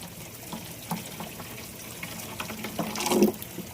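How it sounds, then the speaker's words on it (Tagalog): Water pours into a container that will hold Taguro line crayfish, a steady close splashing and trickling that swells louder toward the end, with no talking. "Lagyan natin ng tubig bago natin pakawalan dito."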